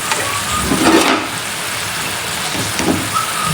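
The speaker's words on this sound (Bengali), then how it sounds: "তো মশলাটা কষানো হতে থাকবো" Ground spices being fried in a pan while cooking a dried fish bhuna, chicken with potatoes and river fish: steady loud sizzling with occasional stirring scrapes, close and continuous, with no talking.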